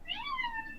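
A single short, close meow from a cat, rising then sliding down in a clear tonal call that lasts under a second.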